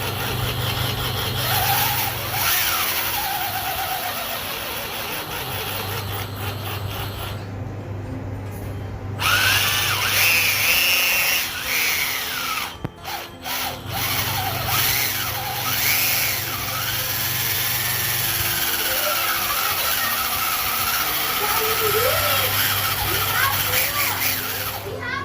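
Small electric motor of an RC car running during servicing, in short whirring bursts of a few seconds each, repeated several times, with a person speaking over it.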